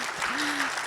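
An audience at a founder showcase for women entrepreneurs bursts into dense, sustained clapping filling the hall, with a brief voice tone running underneath.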